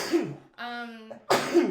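A single human sneeze, sharp and close, with a brief burst of breathy noise, preceded by another explosive nasal burst and separated by a short tonal hum in between.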